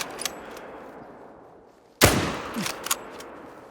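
A single sharp hunting rifle shot at fallow deer in theHunter: Call of the Wild, a sudden loud crack with a decaying echo after a quiet stretch, followed by faint game ambience.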